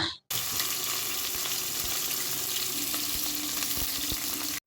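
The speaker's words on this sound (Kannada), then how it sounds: "ಈರುಳ್ಳಿನ ಎಣ್ಣೆಯಲ್ಲಿ ಚೆನ್ನಾಗಿ ಫ್ರೈ ಮಾಡ್ಕೊಳ್ಬೇಕು" Chopped onions fry in oil for a Karnataka-style fenugreek-leaf rice bath, giving a steady, close hiss and crackle that runs continuously without talk.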